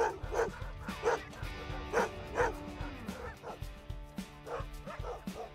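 Several sled dogs at a musher's kennel in the Alaska bush bark and yip repeatedly at close range, sharp barks in an uneven rhythm with whimpering and other kennel noise underneath.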